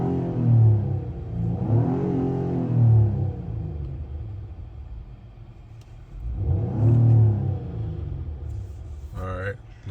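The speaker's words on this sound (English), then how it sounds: "I'm gonna give it a couple revs, see if it made any improvements" A 2019 Acura TLX A-Spec AWD engine fitted with a K&N air filter revs twice, each rise swelling to a loud, close rumble and falling back to idle, with a brief click near the end.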